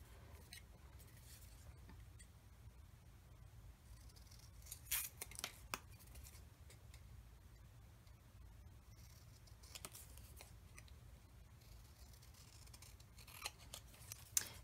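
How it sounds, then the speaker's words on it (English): Scissors snip through colored paper labels in a quiet room, the cuts soft and irregular over a low steady background hum, with a few slightly crisper snips standing out now and then. "I'm cutting out all these different colors of labels here"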